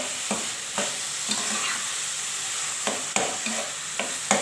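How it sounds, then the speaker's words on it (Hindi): Khoya being stirred into bottle gourd halwa in a pan, with a steady soft sizzle and a few scraping stirs of a spoon against the pan, close and clear, no voices. "इसको खोया डाल के इसको मिक्स करना है।"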